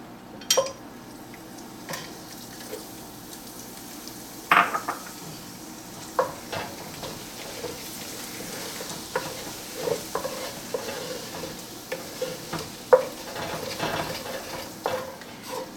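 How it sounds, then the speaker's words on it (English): A metal spatula scrapes browned bits from the bottom of a gumbo pot, giving repeated close, irregular scrapes and clanks over a low sizzle. "we're going to scrape up some of these brown bits from the bottom"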